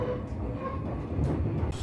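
An electric commuter train on a rural Japanese line rumbles along with a low, steady roar and faint motor hum, close by and continuous.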